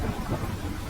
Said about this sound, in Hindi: लाडो तेज बारिश में अपने बच्चों की तरफ निकल पड़ी